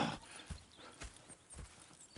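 Horses in Red Dead Redemption 2 clip-clopping at a walk, with steady hoof strikes about twice a second, fairly close and moderately quiet, with no talk.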